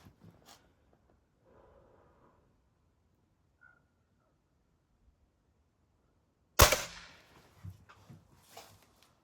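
A single sharp firearm shot rings out loud and close at the range, with faint movement and rustling before it and the crack decaying briefly afterward.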